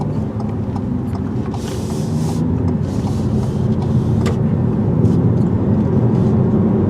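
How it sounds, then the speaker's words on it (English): A 2018 Ford EcoSport engine runs steadily while driving, a continuous low rumble with road noise that stays fairly loud throughout, with faint brief higher sounds over it. "There we go, the engine started back up."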